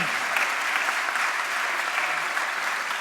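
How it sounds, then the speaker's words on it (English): A concert audience applauds the singers with dense, steady clapping that holds an even loudness from start to finish, with no voice above it. "So big round of applause for them."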